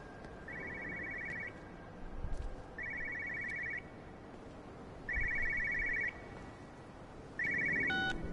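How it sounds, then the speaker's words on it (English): A telephone rings in the video game Everybody's Gone to the Rapture. Four evenly spaced electronic ring bursts, each about a second long, repeat steadily over a soft, hissy background with no speech. "Phone."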